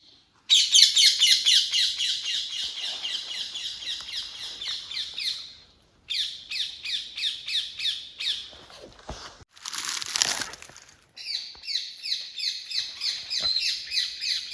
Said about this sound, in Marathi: तिकडे आहेत ना पोपट ओरडत आहेत जोर जोरात